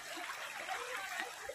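Strong floodwater rushing along a flooded road, a steady broadband wash of flowing water throughout, fairly close and even in level with no pauses.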